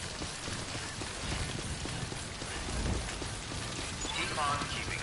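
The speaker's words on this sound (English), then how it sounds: "Why's it gotta rain?" Rain falls in the Death Stranding video game, a steady broadband patter that runs the full length alongside rhythmic footstep-like clops, with a brief electronic chirp near the end.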